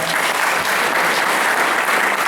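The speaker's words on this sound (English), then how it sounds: "put your hand together and loud applause for Bashar Khan" An audience at a gathering gives loud applause for Bashar Khan, a steady, dense wash of clapping that holds evenly for the whole stretch.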